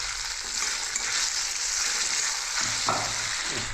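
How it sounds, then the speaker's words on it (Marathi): Potatoes sizzle in hot oil, a close, continuous bubbling hiss with a brief stirring scrape near the end. "त्याच्यासाठी बटाटा तेलामध्ये टाकलेला आहे"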